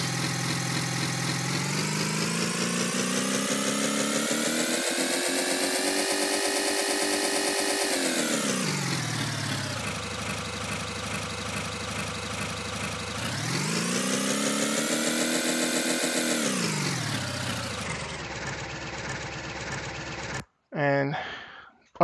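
A homemade engine sound for a racing video game revs up, drops back, then climbs again in a steady, buzzing harmonic whine. The loud, continuous synthetic motor carries no talk and cuts off abruptly near the end with a brief click.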